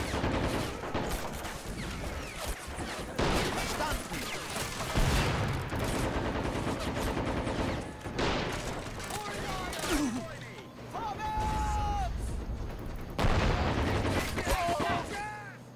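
Men of War battle with rapid machine gun bursts and scattered shots rolling on under a Spanish-speaking player's commentary, with occasional whistling projectiles and distant booms in the mix.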